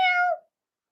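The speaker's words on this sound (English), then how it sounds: "Where is the cat? Meow." A single short cat meow, close and clear, fading out quickly into silence.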